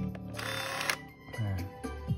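A Kodak Star 735 film camera powers on with soft mechanical whirs and brief electronic clicks, a few short close-up bursts at low volume with no talk.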